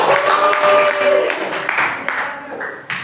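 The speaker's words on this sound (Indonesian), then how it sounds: "terima kasih tepuk tangan untuk kelompok terakhir" A crowd of people applauding and clapping together for a few seconds, moderately loud, with some voices mixed in.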